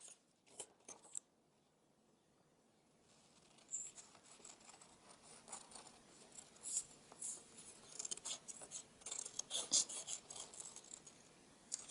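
Scissors snipping paper at a library table during a craft workshop, faint, scattered crisp cuts and rustles that begin after a quiet stretch and grow busier toward the end, with no talking.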